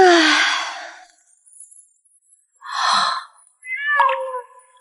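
A cat meows three times in short, separate cries with quiet gaps between them. The first call is the longest and clearest, and the later two are brief and thinner.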